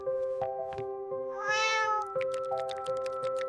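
A cat meows at dawn in one drawn-out, rising and falling cry, loud and close, amid steady background tones and light clicks.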